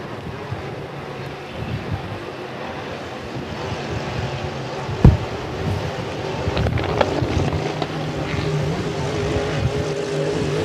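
Hydroplane racing boat engines roar across a water course, a continuous distant drone with wind buffeting the microphone and a sharp thump midway, rising slightly toward the end.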